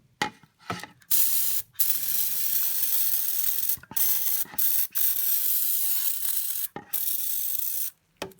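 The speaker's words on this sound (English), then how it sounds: "I have cleaned the engine block also using universal cleaner." Universal cleaner sprayed onto a BMW E46/E39 engine block in a repair workshop, a series of long hissing aerosol bursts separated by short pauses, close and fairly quiet.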